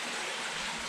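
Spring water flowing along the Lost Valley Trail near the Buffalo National River in Ponca, Arkansas, a steady, close rushing wash that carries on unbroken.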